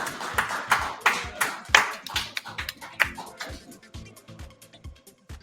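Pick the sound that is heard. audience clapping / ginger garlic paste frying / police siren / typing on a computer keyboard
audience clapping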